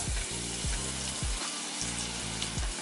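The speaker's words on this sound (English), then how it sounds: "adding in two eggs." Eggs hit a hot oiled pan for homemade hibachi fried rice, giving a steady loud sizzle with repeated low thumps of a spatula or pan being handled, and no talking.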